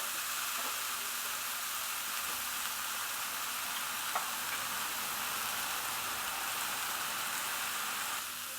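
Desi-style mixed spice powder cooking in a pan for a vegetable bhuna, a steady, hissing sizzle like light rain, even and continuous throughout with one faint tap and no voices.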